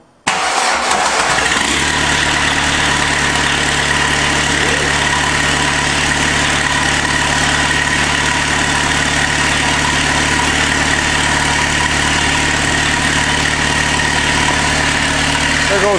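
A VW diesel engine, its glow plugs warmed, is started and then idles loudly and steadily up close. It catches almost immediately after a brief crank and settles into a constant rough rumble that continues throughout.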